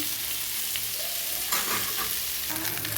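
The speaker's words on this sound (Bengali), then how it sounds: "ভেন্ডিটা বসিয়ে দিলাম ভাজার জন্য নুন হলুদও দিয়ে দিয়েছি" Sliced okra, seasoned with salt and turmeric, fries in a pan at home, giving a steady close hiss of sizzling oil with brief stirring scrapes and no talk.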